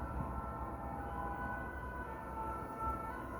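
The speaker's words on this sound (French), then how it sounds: "Ah ben une sirène de pompier," A fire engine siren wails at a distance, a faint, steady sustained tone held over a low rumbling background at night, with no one talking.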